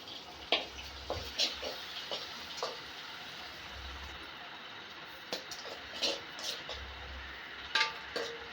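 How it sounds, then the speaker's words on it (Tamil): Chopped onion, green chili and curry leaves sauté in a pan while mutton brain fry is prepared, a soft, faint sizzle under intermittent spoon scrapes and clinks against the pan. "இப்போ நறுக்கி வச்ச வெங்காயம், மிளகா, கருவேப்பிலைங்க 3 போட்டு நல்லா வதக்கிங்க."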